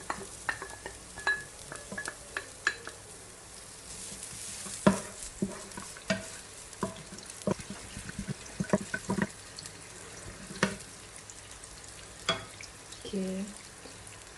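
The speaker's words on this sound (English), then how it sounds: "I'll fry some onion first" Onion frying in oil in a pan while cooking mohinga, a soft continuous sizzle beneath frequent clinks and scraping of a utensil, with running water from a tap and brief murmuring voices.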